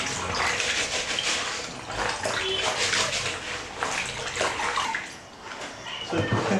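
Moin moin leaves being washed by hand in a basin of dirty water, with steady splashing and sloshing throughout, fairly close and continuous.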